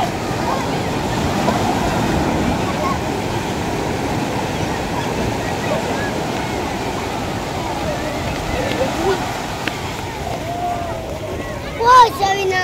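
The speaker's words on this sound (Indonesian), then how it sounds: "hari ini kita lihat aja keseruan anak-anak mandi di pantai ini guys ya" Waves wash in a continuous rumbling surf at a beach where children are bathing and playing, with a brief louder splash or burst near the end.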